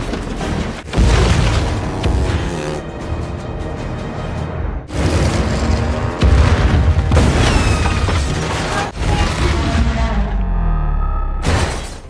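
Several loud, booming landmine explosions in a film burst one after another, each followed by rumbling debris and roaring noise, with brief lulls between blasts.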